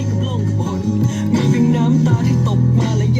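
Music with singing plays from an FM radio broadcast through the small speaker of a Panasonic RX-D45 cassette-CD player, full and fairly loud, with a warm, compressed broadcast tone.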